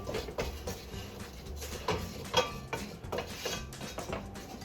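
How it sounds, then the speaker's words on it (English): Flour stirred into oil in a pan for a roux for coq au vin, a spoon scraping and clinking against the pan in a steady, quiet rhythm of soft ticks, no talk. "I'm mixing my flour to combine it real well."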